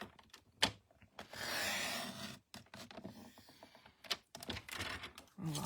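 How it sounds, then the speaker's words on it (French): Paper card stock being cut for a flip-flap scrapbooking card, with quiet rustling and scraping passes of the blade and bursts of paper handling, small taps and shuffles throughout, close and soft. "Tant que j'y suis, je vais faire aussi cette coupe-là sur mon pli de 10 cm."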